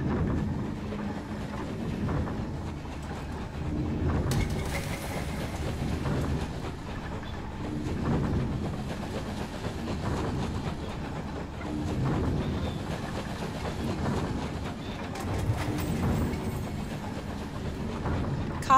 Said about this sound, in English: Oh, it's the train!